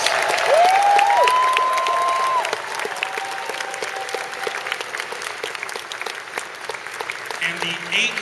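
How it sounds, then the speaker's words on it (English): Crowd at the Anthrocon 2011 furry convention closing ceremony clapping for Yappy Fox, steady loud applause filling the hall throughout, with a brief whistle-like tone early on and softer clapping toward the end. "one big round of applause for Yappy Fox"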